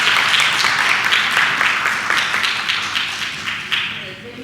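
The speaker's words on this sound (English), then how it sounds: "Let's have a round of applause for them." Applause at a school board meeting for a team's advisors, a busy close patter of many hands clapping that holds steady and then thins out toward the end.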